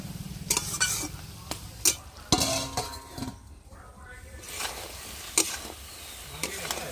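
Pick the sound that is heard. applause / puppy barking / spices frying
spices frying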